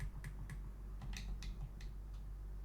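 Soft, irregular clicks of computer keys tapped in short bursts, faint and close against a low steady hum, with no talking.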